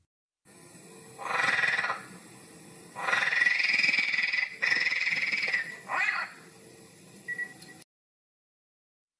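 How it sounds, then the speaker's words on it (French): A frog croaks in a few drawn-out raspy bursts separated by short pauses, close and clear, then falls silent. "Grenouille."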